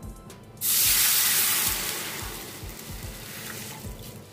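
A sudden loud hissing sizzle as water hits a hot pan of roasted semolina for a sweet, gradually settling into a steady bubbling hiss with low knocking thuds underneath.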